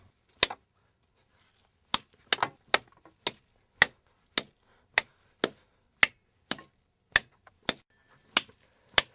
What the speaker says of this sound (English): This is for the sound of slapping.